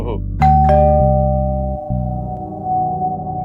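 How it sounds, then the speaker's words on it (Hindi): A two-tone doorbell chime rings once, the second note ringing out and sustaining over a low background hum. "घंटी बजी सुनाई नहीं दी तुमको?"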